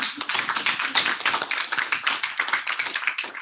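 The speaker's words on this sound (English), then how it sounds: "So I want a round of applause for John Barry." An audience at a public meeting at Queen's University Belfast claps for a few seconds, a crisp, close patter of many hands at an even, lively pace.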